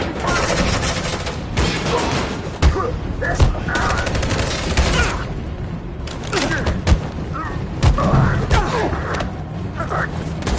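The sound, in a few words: gunfire, suppressing fire in a video game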